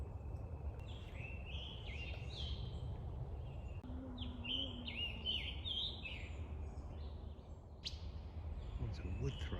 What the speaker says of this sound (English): The scarlet tanager singing up here.